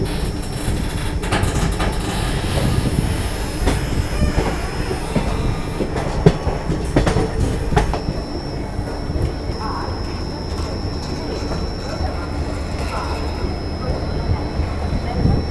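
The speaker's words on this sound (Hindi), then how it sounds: "सामने आप जो ट्रेन देख रहे हैं ना, वो मेरे ख्याल से झेलम एक्सप्रेस है" Jhelum Express rolling through Manmad Junction station, a steady loud rumble of rail cars with clattering wheel clicks and occasional sharp knocks, continuous throughout with faint background voices.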